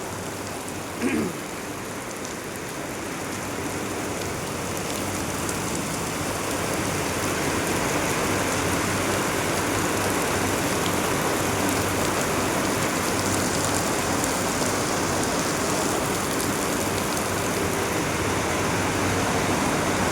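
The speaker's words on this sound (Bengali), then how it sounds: "প্রচুর হারে বৃষ্টি হচ্ছে" Heavy rain pours steadily outside a plywood factory as a dense, even roar that builds slightly and continues throughout, with a brief faint knock early on.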